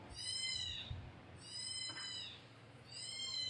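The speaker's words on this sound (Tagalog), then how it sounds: "sensya na guys, ingay ang pusa ko." A pet cat lets out three drawn-out, high, wavering cries, each lasting about a second, fairly close and clear with quiet gaps between them and no talking.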